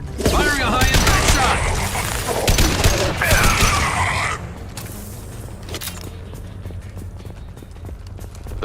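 High-impact gunfire in Mass Effect 2 erupts in a dense, loud burst of rapid shots and impacts for several seconds, then gives way to a quieter, lingering background rumble.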